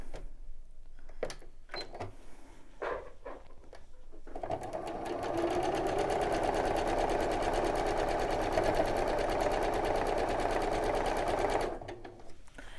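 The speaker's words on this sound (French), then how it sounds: "on se place bien comme il faut pour coudre nos deux petits modules ensemble" A sewing machine stitches pieces of a patchwork block together: a few soft handling clicks and taps, then a steady, close whirring run of stitching lasting about seven seconds before stopping.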